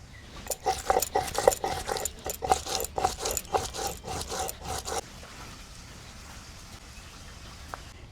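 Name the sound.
grinding ginger, chilies, coriander and cumin into paste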